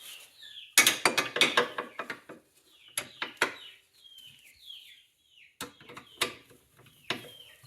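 A bolt on the rear differential of a Polaris Ranger 700 XP is tightened with a ratchet, heard as quick close clicking bursts and metallic clanks separated by pauses, with birds chirping faintly in the background.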